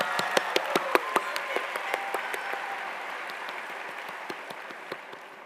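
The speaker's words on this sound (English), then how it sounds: "please give another round of applause." Audience applause fills a graduation ceremony hall, a steady wash of many hands with a few sharper near claps standing out, gradually thinning and fading over several seconds.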